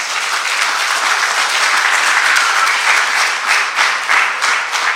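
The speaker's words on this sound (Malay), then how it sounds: "Tepukan gemuruh sekali lagi untuk semua." An audience at the Anugerah Persuratan 2023 literary awards ceremony gives loud, sustained applause for the winners, a thick, even roar of clapping from many hands that fills the whole stretch without speech.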